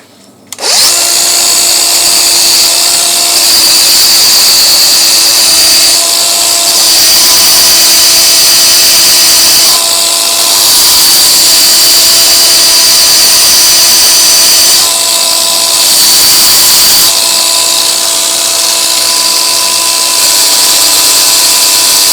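An old bolt being restored is polished with 1000-grit sandpaper, heard as a loud, continuous high whirring, like a power tool spinning at close range, running unbroken for over twenty seconds.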